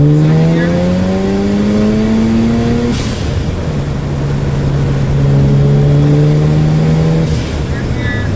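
A car engine pulls hard in second gear, its pitch climbing steadily and loudly, then dropping briefly at a shift before rising again, the engine close by with a voice calling out over it.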